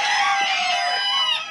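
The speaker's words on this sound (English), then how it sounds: "it's now a photo finish between a rank outsider crowing in box 57 and Bartholomew" Roosters crow at a Belgian cock-crowing competition, one bird after another in a steady overlapping chorus of high, drawn-out calls, loud and close, with no voices.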